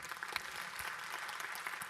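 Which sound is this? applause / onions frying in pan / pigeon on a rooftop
applause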